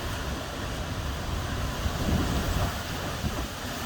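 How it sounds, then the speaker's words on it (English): Strong gusting wind from an approaching cool-front thunderstorm roars steadily through a dragon fruit lane outdoors, a broad continuous rush with swelling gusts near the middle and low buffeting, no voices. "a strong wind thunderstorm blows through"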